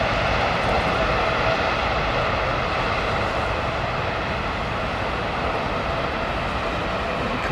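A British Airways airliner taking off at Heathrow sends out a continuous, fairly loud, rough engine roar with dense low rumble. It stays steady throughout without clear talk.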